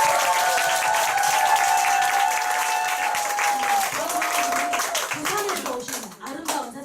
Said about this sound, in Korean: 우리 김정원 사장님께 박수 부탁드립니다